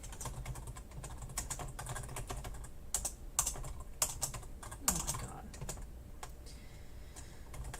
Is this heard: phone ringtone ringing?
no